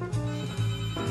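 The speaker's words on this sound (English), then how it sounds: "I'll say goodbye now while I answer the telephone." A telephone bell rings indoors in a home kitchen, two loud bursts of steady trilling ring separated by a short gap, with nobody speaking over it.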